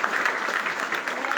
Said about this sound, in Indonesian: Tepuk tangan aku dulu, bagaimana sih?